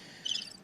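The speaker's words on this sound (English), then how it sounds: "Crickets." Crickets chirp in a short, faint burst of high trilling, a brief comedic silence cue with no talking.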